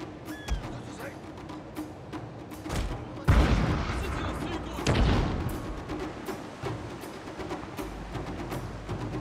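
Cannon fire against ships in a naval battle in the video game Total War Shogun 2: a continuous crackle of shots with two heavier booming bursts in the middle, heard under someone talking.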